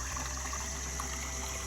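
Spring water running in a small mountain creek, a soft, steady trickling and gurgling close by, faint and continuous through the short moment.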